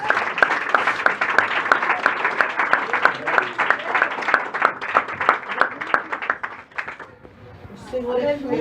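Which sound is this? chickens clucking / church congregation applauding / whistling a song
church congregation applauding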